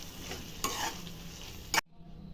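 Vangi bath gojju with coriander leaves being stirred in a pan, soft scraping strokes over a low sizzle with a couple of louder utensil knocks, ending abruptly near the close.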